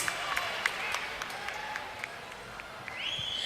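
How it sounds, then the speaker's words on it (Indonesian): Audience applause at a Perindo party declaration event honoring the performers Super Girlies, a steady wash of clapping from a crowd lasting throughout, moderately loud with faint voices mixed in. "Kita berikan tepuk tangan sekali lagi untuk Super Girlies"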